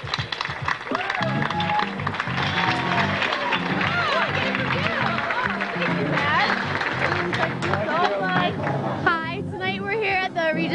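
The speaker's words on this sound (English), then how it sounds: "Everyone, can we have a round of applause?" Audience at a 2001 Bishop Eustace Preparatory School senior prom at the Regency Palace breaking into sustained applause and clapping amid crowd chatter and music, loud and steady throughout.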